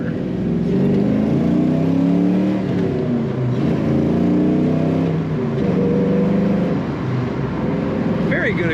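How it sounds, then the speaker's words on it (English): Restomod 1978 Chevrolet El Camino with a 6-speed manual pulling hard under acceleration, loud engine tone climbing through the revs, dipping at a shift and rising again, heard from inside the cab with someone talking over it. "Very good acceleration in such a light package with this car."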